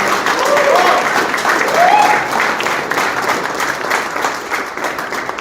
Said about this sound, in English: Please, round of applause for Mr. Shivam Arora.